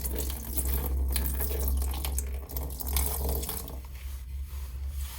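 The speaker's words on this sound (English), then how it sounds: "got my water here and I'm just going to pour it over those" Water pours steadily from a container over compressed seed starter pellets, a continuous splashing trickle, close and fairly loud, easing slightly toward the end.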